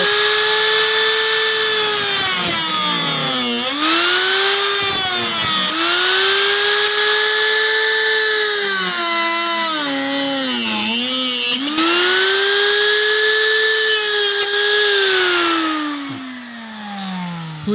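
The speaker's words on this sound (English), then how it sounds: "I need to cut off these 2 long bolts" A power tool cuts off two long bolts on a 2003-2010 Porsche Cayenne door, a loud high-pitched whine that sags in pitch under load and recovers in several long passes, then winds down at the end.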